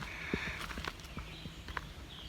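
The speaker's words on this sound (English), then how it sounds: "I heard footsteps." Faint, scattered footsteps sound at an irregular pace against a noisy outdoor background, with no talk.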